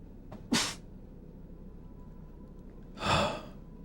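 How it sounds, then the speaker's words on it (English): A person sneezes twice, close and fairly loud, with a quiet pause between the two bursts. "I think I'm gonna sneeze."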